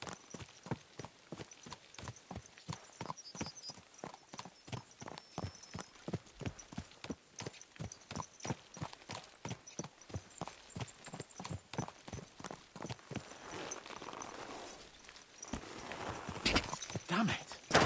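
Several horses gallop in Kingdom Come: Deliverance II, a medieval setting, their hooves drumming in a fast, steady clip-clop rhythm close by, with a brief whinny and other faint sounds near the end.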